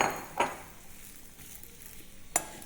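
Date seeds dry-roasting in a hot kadhai, with no ghee, give a quiet scraping stir and a few soft rattles, with sharper clinks of a spoon against the pan near the start, middle and end.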